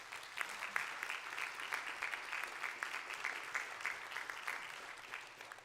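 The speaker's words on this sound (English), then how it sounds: "Could we give them a round of applause, please?" An audience at a housing and health event in Indianapolis gives the panel steady, moderately faint applause, many hands clapping evenly throughout.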